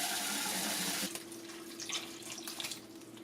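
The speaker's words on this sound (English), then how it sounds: "If you see that there's not enough tomato sauce to cover the vegetables, add some water. Put hot water." Hot water pours from a tap into a pot of tomato sauce and vegetables, a loud steady rush for about a second, then softer splashing and trickling as the flow settles, with no talking.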